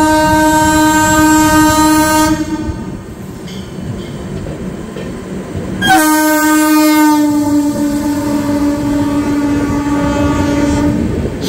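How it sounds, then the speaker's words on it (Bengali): Saraighat Express from Guwahati bound for Howrah, hauled by a WAP7 electric locomotive, approaches with a loud sustained horn blast, a pause, then a second long horn over rumbling wagons. "কোনো ট্রেন আসছে।"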